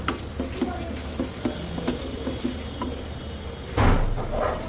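Rice fries in a pan with ground garam masala while a spatula stirs it, giving repeated light scraping ticks over a steady low sizzle, with a fuller burst of frying noise near the end.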